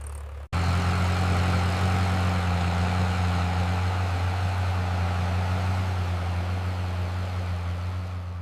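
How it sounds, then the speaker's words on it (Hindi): Tractor engine running in a wheat field, starting abruptly after a short pause and then holding a loud, steady droning rumble close by. "अब आ गया ट्रैक्टर मैदान में"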